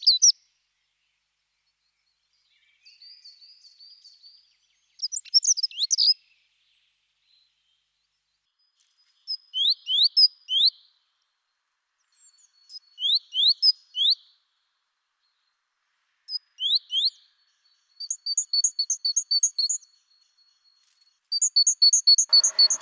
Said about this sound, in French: Cette mésange charbonnière cherche un endroit pour nicher.